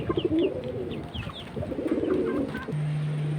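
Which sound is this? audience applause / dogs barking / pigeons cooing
pigeons cooing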